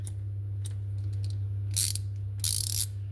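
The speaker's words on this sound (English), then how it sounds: "fasten it tight with a ratchet handle. Left and right. Quite a positive click." A ratchet screwdriver handle turned back and forth gives short bursts of close, crisp clicking over a steady low hum, two longer runs of ratcheting standing out clearly.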